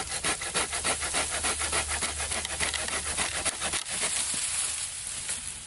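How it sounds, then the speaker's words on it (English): A Silky hand saw cuts through dry oak firewood with quick, regular back-and-forth rasping strokes, close and loud, the rhythm slowing near the end with no talking. "it's great for cutting firewood"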